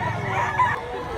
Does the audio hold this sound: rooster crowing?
yes